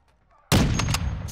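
A sudden, loud burst of gunfire from the Call of Duty Warzone DMZ game: a sharp shot followed by a few rapid cracking reports, close and dominant, with nothing else before it but faint background.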